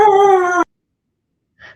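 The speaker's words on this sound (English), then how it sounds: "I think your pup wants to hang out." A dog howls in a long, tonal wail lasting over half a second, close and fairly loud, then falls silent before a faint, short whimper near the end.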